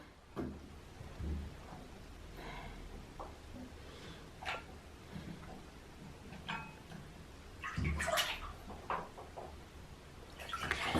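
A small child plays with toys in bath water, giving irregular splashes, knocks and clatters at close range over a steady watery background.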